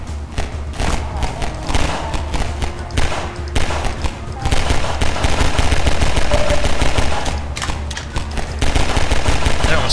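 Rapid gunfire in Half-Life 2 Episode 2: loud, close bursts of automatic shots and thuds in quick succession, with a player talking at times.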